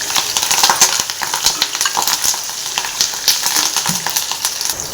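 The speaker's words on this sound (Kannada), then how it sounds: "ಎಷ್ಟು ಚೆನ್ನಾಗಿ ಹಸಿರು ಮೆಣಸಿನ್ಕಾಯಿ ಕರಿಬೇವೆಲ್ಲ ಫ್ರೈ ಆಗ್ತಾಯಿದೆ" Green chillies and curry leaves fry in hot oil for chitranna, a steady bright sizzle with crackling pops and occasional spoon scrapes throughout, close and fairly loud, no talking.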